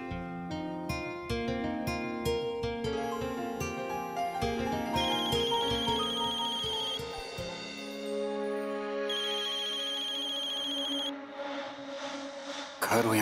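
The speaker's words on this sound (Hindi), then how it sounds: "घर हो या बाहर, हमेशा गलत वक्त पे ही फोन करेगी, कंवार।" A mobile phone ringtone plays a bright melodic tune that repeats over several seconds, clear and steady, with a sustained tonal section before it cuts off near the end.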